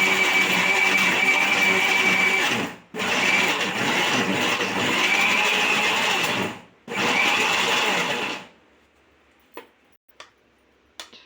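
A kitchen mixer grinder whirs loudly as it grinds a spinach and ghee mixture again, running in three long bursts separated by short stops, followed by quiet with a few faint clicks.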